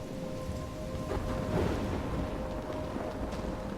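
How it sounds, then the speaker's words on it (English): Rain pours steadily during a thunderstorm in Life Is Strange, a dense wash of falling water with low rumbling swells and a faint tonal hum underneath. "I'm trapped in a storm?"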